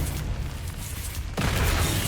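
A Confringo blasting spell exploding in Hogwarts Legacy: a steady roaring rumble suddenly swells into a heavier, louder boom partway through, close and dense, with no speech.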